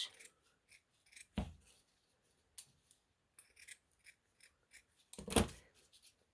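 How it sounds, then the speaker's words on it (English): Scissors snip through a piece of felt to cut out a craft shape, with several separate crisp cuts spread across the clip and two louder, closer snips standing out. "your piece of felt and you can cut out a shape"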